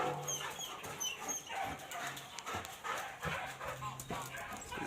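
Dogs at a dog daycare bark and yelp in scattered bursts around a busy room, with footsteps, clatter and people talking over them.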